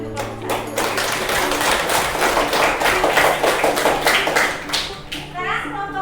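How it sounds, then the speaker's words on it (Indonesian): In a classroom, students applaud a group with many rapid, uneven hand claps that build to a steady patter for several seconds, with children's voices chattering underneath. "Mari kita berikan tepuk tangan untuk kelompok"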